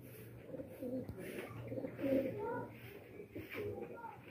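Racing pigeons coo softly and repeatedly around their new loft, with low, rounded calls rising and falling over a faint background. A person speaks intermittently among them.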